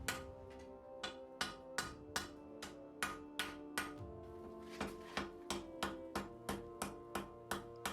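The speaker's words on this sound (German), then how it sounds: "Schön langsam zuspitzen und immer wieder gleich hammern." Steady, evenly spaced hammer blows ring out on a hand-forged steel knife tip, about two strikes per second, each a bright metallic clang with a ringing tail, close and alone.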